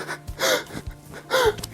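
Gasping breaths imitating breathing trouble under fear, three sharp strained inhalations spaced about half a second apart, close and fairly loud, no words spoken.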